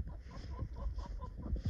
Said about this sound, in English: let's see how many chickens we have here.